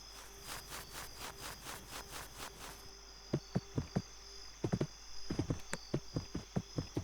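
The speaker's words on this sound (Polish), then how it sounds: "Tam jest koń." Horse hooves clip-clopping in the Westbound video game, a series of sharp, evenly spaced clops at moderate distance, while insects buzz and chirp steadily in the background and no one speaks.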